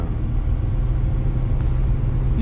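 A vehicle stuck on ice near Cochrane, Ontario, with locked differentials and axles while its rear wheels spin. A loud, steady engine roar and low rumble continue without a break, and no one speaks.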